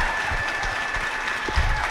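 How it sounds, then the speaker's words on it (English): Applause from an audience at a live event, a steady broadband clatter of many hands at moderate distance, with a faint tonal hum running underneath. "So give this guy a big round of applause."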